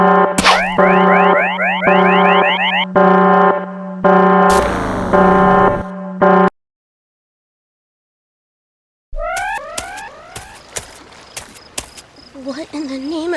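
A repeating electronic alarm blares in the Sonic.exe: The Wrath on Mobius Tails demo, loud rising siren sweeps over a steady drone, cutting off into silence before shorter whooping bursts return.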